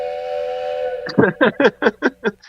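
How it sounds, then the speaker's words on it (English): A steam train whistle sounds as a steady held tone, followed by a run of rhythmic chuffing blasts of a steam locomotive pulling away, loud and close with no talking. "a train whistle."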